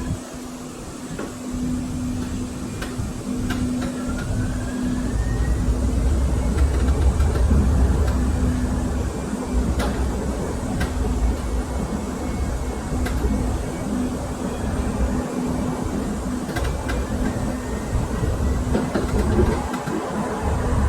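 A San Francisco N Judah light rail train rolls through the Sunset with a steady loud rumble, rail clatter and a humming motor tone, heard from inside the car with some voices in the background.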